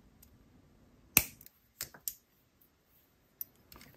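Wire cutters snip off the excess tail of beading wire on a wrapped loop while making a beaded dragonfly necklace, giving one sharp close click followed by a few softer clicks and light handling noise in a quiet room.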